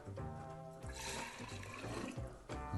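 Rice water poured from a pot into a container for a homemade soil bacteria brew, giving a steady, close splashing pour that runs continuously for a few seconds with slight surges.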